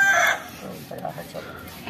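A hen on a Pakistani village homestead lets out a sharp squawk, then a few softer, scattered clucks follow close by.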